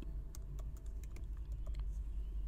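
A computer keyboard clicks in a quick run of keystrokes as a search term is typed, close and crisp above a low steady hum.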